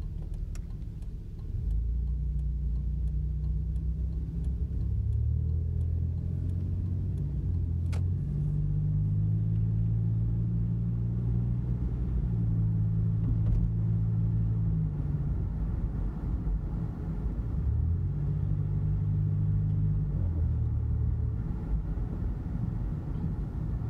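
A 1992 Plymouth Voyager minivan drives around the block, its engine a steady low rumble from inside the cabin, with gear shifts and engine speed changes and a faint ticking over a constant road hum.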